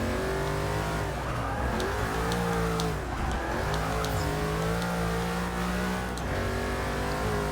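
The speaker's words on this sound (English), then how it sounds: "I'm gonna just drift around a little bit" A bagged Ford GT from Gas Monkey Garage drifts in Forza Motorsport 6, its engine droning loudly and continuously with rising and falling revs that hold steady throughout, with no talking.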